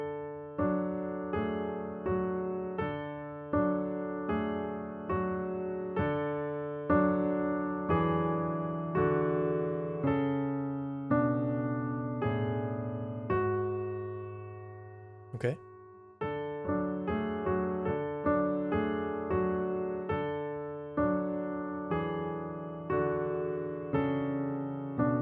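A piece is played on piano with both hands, a steady flowing pattern of broken chords with one short bright click near the middle. No voice is heard.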